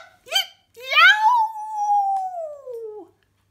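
A human voice imitates a coyote's call, a short yip followed by a long, rising then slowly falling howl, delivered close and clear.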